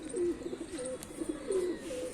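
Pigeons on a rooftop in cool weather give soft, repeated cooing calls, several low throaty coos in a loose rhythm at moderate distance over quiet outdoor background.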